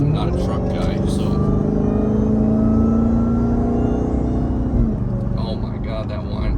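A Dodge Hellcat Charger revs with a steady supercharger whine over a deep engine rumble, sustained and loud up close, easing off near the end, with a voice talking at the start and finish.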